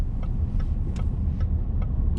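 Steady low rumble of a big 5-litre V8 car engine idling or cruising, continuous and moderately loud with faint ticking clicks above it.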